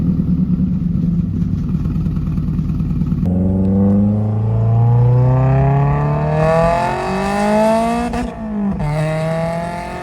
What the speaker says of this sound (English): It's so loud, dude. And it backfires and stuff a lot